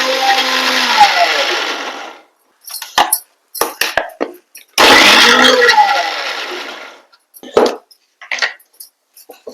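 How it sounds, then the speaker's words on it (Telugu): A kitchen mixie grinds coriander leaves, onion and spices in a loud whirring run of about two seconds, then several short pulsed bursts, another long run, and more quick pulses with pauses between. "ఇప్పుడు బరకగా మిక్సీ పట్టుకున్నాం."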